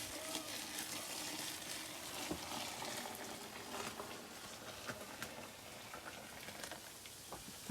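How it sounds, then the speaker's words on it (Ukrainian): Boiled water is poured over a bucket of chopped apples, giving a soft continuous splashing patter close by, fairly quiet, with no speech. "Заливаємо кип'яченою водою."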